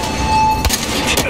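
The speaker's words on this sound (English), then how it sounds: "Should I start shooting then?" Short burst of gunfire in the shooter game Battlefield Hardline, a couple of loud close shots over a constant background hum.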